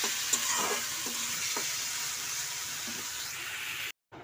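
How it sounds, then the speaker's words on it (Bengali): Spice paste for fish curry stirred and fried in a pan, with a steady bright sizzle throughout and a few spoon scrapes near the start, cutting off just before the end. "আর এদিকে দেখো মশলা কষে নিচ্ছি ভালো করে।"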